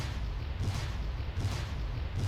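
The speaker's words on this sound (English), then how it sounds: "howitzers firing" Howitzer artillery firing in the Steel Panthers war game, a dense continuous rumble with low booms rolling at a steady pace and no talking.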